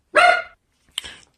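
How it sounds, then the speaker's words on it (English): A dog nearby lets out one sharp bark, then after a short pause gives a softer, shorter second yip, in a quiet indoor room. "my dog is barking"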